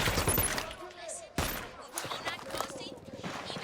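A gunfight in Ghost Recon: Wildlands opens with a rapid volley of loud, close shots, then a sharp single crack, then more scattered bursts of fire that carry on throughout.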